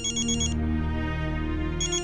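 An electronic phone ringtone trills in two bursts, loud and close, separated by a held tonal pause.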